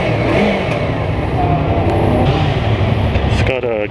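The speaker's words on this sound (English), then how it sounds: "I am test riding 2016 Yamaha YZF R3. Started up here," A 2016 Yamaha YZF R3 motorcycle engine idles in neutral, a loud steady rumble close by with a slight rise near the end; someone talks over it.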